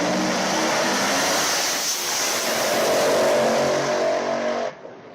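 A drag racing car roars through a qualifying pass, a loud sustained engine howl building in pitch and intensity for several seconds before cutting off abruptly, leaving faint background noise.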